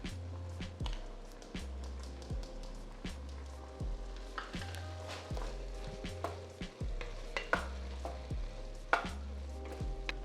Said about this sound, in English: Now I'm going to add my minced garlic